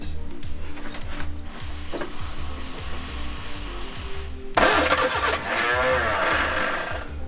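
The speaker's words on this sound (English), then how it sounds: "on these, they have a push button start solenoid" A classic Ford Corsair 2000E barn-find engine cranks via a push-button start solenoid, a rhythmic chugging starter turning over, then a sudden louder surge of roaring, sputtering engine noise midway.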